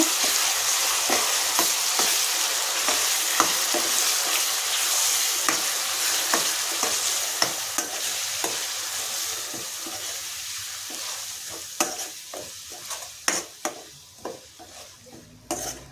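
Onion paste frying in oil as it is stirred for palak curry, a close, steady sizzle with regular spoon scrapes against the pan that thin out and grow sparser toward the end.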